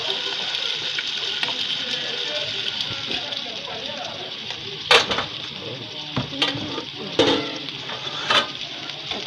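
Beans frying in palm oil crackle and sizzle steadily in a pan, with occasional sharp scrapes and clinks of stirring, while a voice talks over the cooking.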